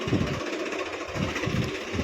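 A tractor's diesel engine runs close by on a farm with a rough, pulsing chug, steady and loud throughout.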